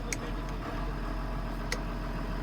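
A Massey Ferguson tractor with a Perkins six-cylinder engine idles nearby, a steady low even drone with two brief high ticks over it.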